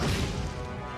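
Flame slash sword attack in the video game Trails of Cold Steel: a loud, dense crashing impact with a fiery roar that fades slightly over a second.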